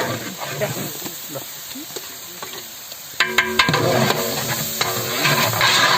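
Mint, coriander and garlic stir-fry in a large outdoor batch for an eight-kilo village goat biryani, a loud, steady sizzle with repeated ladle scrapes that grow busier, close up.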